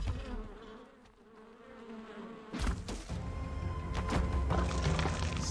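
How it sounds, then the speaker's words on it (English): Bees buzz in the survival game Ark as a steady insect drone that grows louder and denser partway through, joined by scattered thumps and clatter with no talking. "I hear the buzzing. I think there's bees."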